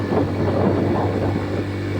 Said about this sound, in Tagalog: Hirap yung motor.